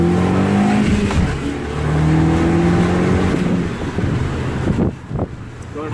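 A car accelerates hard and climbs through higher gears, the engine note rising, dropping at each shift, then rising again, loud and close inside the cabin with wind noise. Brief voices come in near the end.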